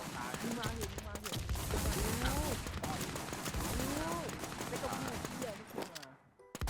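Video game gunfire crackles in dense bursts through the stretch, repeated shots layered with shouting players talking over the chaos before it cuts out near the end.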